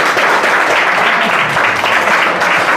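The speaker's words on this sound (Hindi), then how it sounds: "जोरदार तालियां, जोरदार तालियां" Students in a class burst into dense, loud applause, a thick continuous patter of many hands close by with faint voices underneath.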